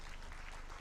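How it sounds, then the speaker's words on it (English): A round of applause from a regional conference audience, a steady wash of many hands clapping at moderate, even loudness with no voices over it. "A round of applause again for"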